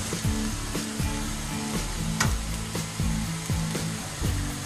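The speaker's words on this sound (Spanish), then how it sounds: "Vamos a citronar bien la cebolla y el chile, que se doren un poquito." Onion and chile fry in a pan, a steady close hiss of sizzling oil under a rhythmic, repeating mechanical whir and clatter, with no voices.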